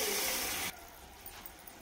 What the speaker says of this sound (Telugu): దీంట్లోనే కొద్దిగా వాటర్ పోసుకుందాం